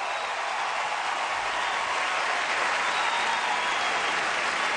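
A packed stadium crowd roaring and clapping before the men's 800 m final at the 2008 US Olympic Trials, a dense, continuous wall of cheering heard from within the stands.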